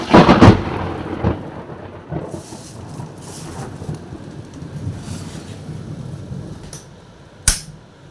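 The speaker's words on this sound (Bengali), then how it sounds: "ভালোই জোরে বৃষ্টি হচ্ছে দেখো।" Heavy rain during a thunderstorm, with a loud crack of thunder at the start, rumbling through the middle and another sharp clap near the end over a constant downpour hiss.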